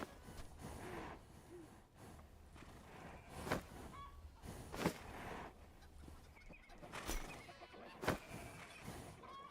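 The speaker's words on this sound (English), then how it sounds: "Let's get this damn horse out of here." A horse in the farming game Farmer's Life gives several whinnies and snorts at intervals, moderately loud against a quiet game background.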